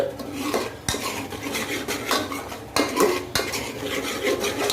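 A utensil stirs and scrapes drumstick curry masala roasting in oil in a pan, with repeated metallic scrapes and clinks over a soft frying sizzle, close and irregular.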